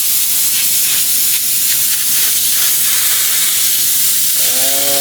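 A spray can sprays onto a styrofoam car headliner in one loud, continuous hiss that lasts throughout, with a faint rising whine near the end.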